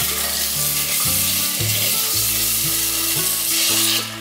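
Winter melon stir-fried in a hot wok as water is poured in, giving a loud, steady sizzling hiss that runs throughout, with tonal background sounds underneath.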